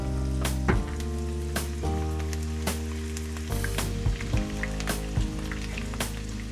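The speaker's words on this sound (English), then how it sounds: "Now just have to deep fry shallot and chili." Shallot and chili deep frying in hot oil, a steady sizzle and crackle with sharp pops and the clatter of stirring utensils, close and fairly loud with no talking.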